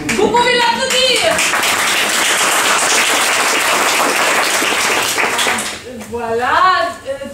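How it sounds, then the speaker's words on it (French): A jazz show audience bursts into loud, dense applause for a volunteer brought onstage, clapping swelling right after a brief spoken line and dying away as a voice resumes speaking. "Vous pouvez l'applaudir."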